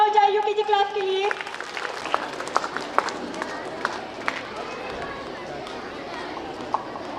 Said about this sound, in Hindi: एक जोरदार तालियां हो जाए यूकेजी क्लास के लिए।